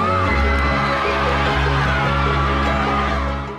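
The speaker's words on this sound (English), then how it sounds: "Here they cheer as friends open their acceptances." A crowd of students cheering and whooping as friends open their college acceptances, loud, dense excited voices throughout, fading slightly at the end.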